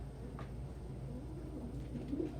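Pigeons or doves coo softly, half-buried in a low constant rumble, with a few brief calls surfacing near the end.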